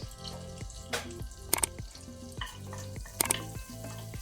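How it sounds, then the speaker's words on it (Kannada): Half a teaspoon of cumin seeds sizzling in oil on a low flame for pav bhaji, a continuous crackling fry with rhythmic stirring scrapes and a few sharper clinks, close and steady without talk. "ಅರ್ಧ ಟೀ ಸ್ಪೂನ್ ಜೀರಿಗೆ ಹಾಕೊಳ್ತೇನೆ ಲೋ ಫ್ಲೇಮಲ್ಲಿ"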